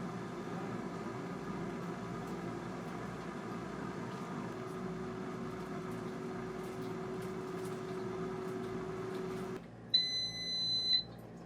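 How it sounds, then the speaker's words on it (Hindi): Air fryer timer beeping at the end of a 15-minute cycle, a cluster of sharp electronic beeps that cut in abruptly after a steady fan hum stops. "देखिए 15 मिनट का टाइमर मैंने सेट कर दिया है।"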